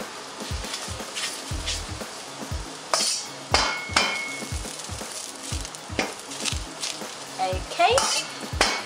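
Oil frying in a wok being seasoned, with a repeated scraping stir against the metal pan in a steady rhythm of clanks and short bursts of sizzle, close and moderately loud, with no talk.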